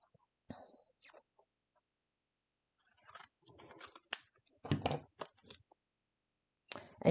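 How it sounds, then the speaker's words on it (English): Scissors snip through scrapbook paper while a Halloween border is trimmed, giving a few isolated crisp cuts followed by a quick cluster of sharp snips near the mic, then one final cut, with quiet pauses between them. "And I'm just using scissors."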